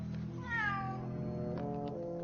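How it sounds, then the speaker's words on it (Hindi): A cat meows once in a drawn-out, rising-then-falling call over a steady background of music and low ambient sound, in a scene from a Hindi horror comedy film. "ये तो बिल्ली है।"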